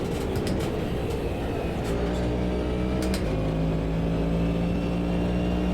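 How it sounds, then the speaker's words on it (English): A DPI race car's big V8 engine roars in the Automobilista 2 racing game, a loud, sustained drone with shifting pitch as the car accelerates and lifts through gears. "Such a cool noise, that big V8 roaring"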